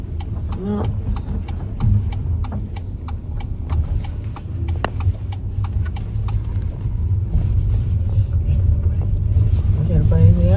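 A car pulls away on a snowy road during a driving lesson, a low engine rumble that builds gradually under close talk from people in the cabin, with a rapid ticking of the turn signal running throughout.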